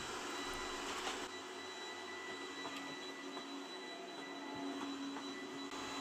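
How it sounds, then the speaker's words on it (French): A Cecotec Conga Eternal Pet robot vacuum hums steadily while cleaning along the edges of a room, a constant whirring motor drone with faint brushing, close and alone with no voices. "il se repère dans l'espace et commence toujours son nettoyage par faire l'intégralité des bords de la première pièce"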